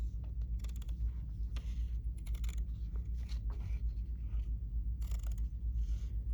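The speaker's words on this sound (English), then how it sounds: "hold the fabric at a 90-degree angle, and trim" Scissors trim fabric close to a seam for an appliqué patch made on a Viking Ruby 90 machine, giving a series of quick, crisp snips in irregular bursts over a steady low background hum.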